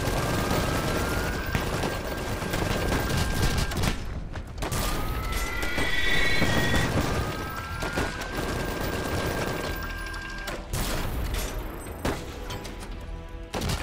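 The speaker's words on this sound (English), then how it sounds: "I'm having my mortars go for their mortars." Mortar and gunfire in an Iron Harvest RTS battle from a 1920s dieselpunk setting: dense, loud fusillades of rifle and machine-gun fire with booming impacts that run almost continuously, while tonal whines and whistles rise above the din.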